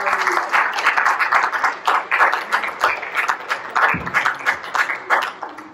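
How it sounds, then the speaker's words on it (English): A church congregation claps rhythmically in praise after a sermon, loud and close, with regular pulsing hand claps and some voices mixed in, one low thud near the middle. "Let's give him one more hand clap of praise."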